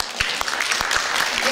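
A concert hall audience bursts into lively applause to welcome a music trio at an anniversary celebration, dense and steady clapping throughout with some voices mixed in.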